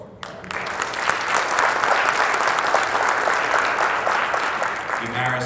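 At a school district awards ceremony, a crowd gives an honored student athlete a lively, sustained round of applause that begins abruptly and stays full for several seconds, with a voice entering at the end.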